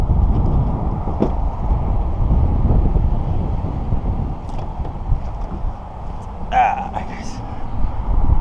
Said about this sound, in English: I'm gonna set this one here because it's too windy